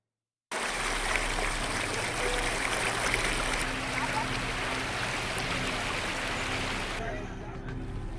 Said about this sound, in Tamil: மதுராந்தகம் ஏரியிலிருந்து 8000 கன அடி தண்ணீர் கிளியாற்றில் சென்றது.